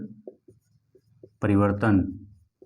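Faint scratchy strokes of writing on a classroom board during a lesson on the human brain, light and intermittent, with a teacher's voice speaking loudly over them partway through.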